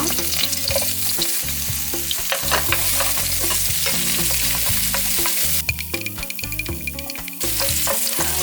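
Steady crackling sizzle of garlic frying in olive oil, continuous and close, with occasional stirring scrapes and no voices.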